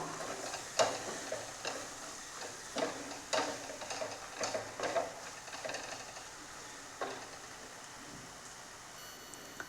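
Masala powders stirred in a pan for sardine roast: a soft, steady sizzle with a spatula tapping and scraping at a fairly regular pace that fades toward the end, close but low in volume.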